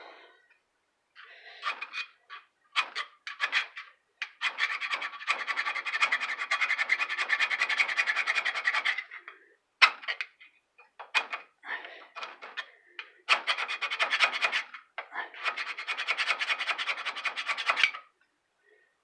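A hand file rasping a small burr off a metal edge, in bursts of short strokes with pauses between runs of steady scraping, close and moderately loud.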